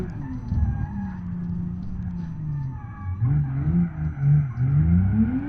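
Engine drone and tire noise from an ETK S-series luxury sedan with an N55B30 engine spinning its wheels in BeamNG Drive, a steady mid-loud tone that rises and wavers in pitch through the second half as the tires slip.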